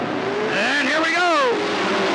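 Race cars roar past on a dirt speedway at Riverside Speedway in Cottage Grove, including the 98 car, in 1991. One loud, close engine rises and falls in pitch as it sweeps by, with a public-address announcer talking over it.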